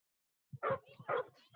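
A small dog gives a few quick, high yips and barks in a short burst after a moment of silence, close by but not loud.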